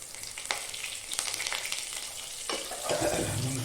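Garlic cloves, a piece of ginger and a sprig of curry leaves frying in oil for a fried chicken dish, a bright crackling sizzle with stirring clatter that swells louder toward the end.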